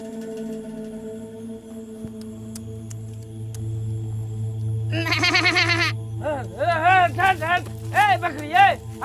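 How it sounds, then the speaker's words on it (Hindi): Goats bleat in a village setting, with several wavering, nasal cries close by in the second half over a low steady hum. "किसका बकरी है रे?"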